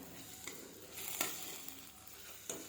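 Spices for a cauliflower curry frying in a pan, a faint soft sizzle with a few scraping stirs and light clinks at intervals.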